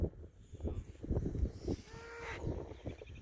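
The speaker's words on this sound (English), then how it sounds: "Here comes the calves that got separated." Calves in an open pasture moo, with a couple of drawn-out calls standing out over low rustling and thumping noises close by, and no talking.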